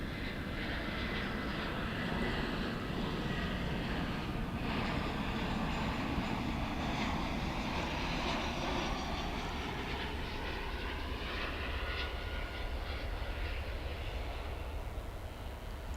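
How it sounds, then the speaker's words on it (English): An airliner arriving at DFW from Austin in thick fog gives a steady distant jet rumble and broad roar that holds level for about sixteen seconds, with no voices. "here comes the flight from Austin"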